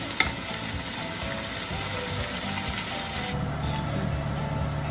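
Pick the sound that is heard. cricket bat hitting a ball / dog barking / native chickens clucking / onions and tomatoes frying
onions and tomatoes frying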